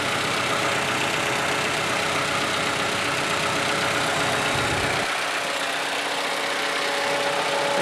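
A 2015 Toyota Camry engine idles with a steady, smooth hum, heard up close and fairly quiet under a constant broadband wash.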